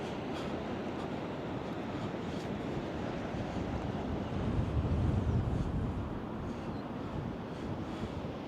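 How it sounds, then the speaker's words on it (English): Steady gusting wind buffets the microphone on a Blackpool seafront, with choppy waves washing in beneath it as a constant broadband roar that swells briefly around the middle. "still a little bit windy, still a bit choppy with the waves."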